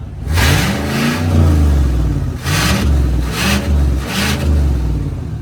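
A Chevrolet Silverado Trail Boss Z71 revs with no muffler fitted, three loud, airy bursts of exhaust swelling and falling in a steady rhythm, close and alone.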